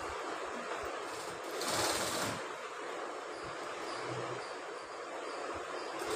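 A sewing machine runs continuously while stitching the sleeve of a men's shirt, a steady close mechanical whir with a slight swell partway through and no speech over it.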